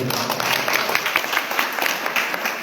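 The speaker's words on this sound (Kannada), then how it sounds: "ಜೋರಾದ ಚಪ್ಪಾಳೆಯೊಂದಿಗೆ" A crowd claps in a steady, dense patter of applause at moderate loudness, with no voices standing out.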